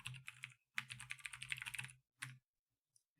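Quick bursts of keystrokes on a computer keyboard as a web address is typed, close and fairly soft, in two runs with a short pause and a final tap.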